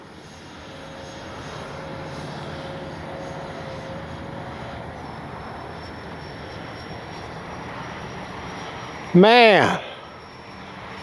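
A Freewing AL-37 RC jet plane flies with a steady, moderately loud whirring hum through most of the clip, and a sharp rising-then-falling whoosh marks a close pass near the end. Someone speaks briefly.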